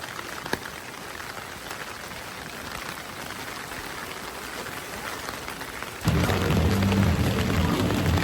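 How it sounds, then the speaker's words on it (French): Rain falling on surfaces outdoors in Seoul, a steady patter of drops that becomes noticeably louder and heavier in the last couple of seconds, with no talking. "Eh, mais la pluie, les gars."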